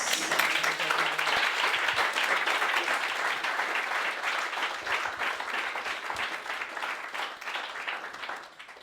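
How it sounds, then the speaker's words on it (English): An audience at a Makers careers fair breaks into sustained applause after a presentation, many hands clapping loud and dense at first, then gradually thinning and fading out. "A round of applause."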